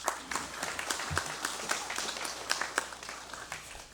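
Applause in a congressional session hall for the Vice President, a steady spread of many hands clapping at moderate distance, fairly soft and even throughout.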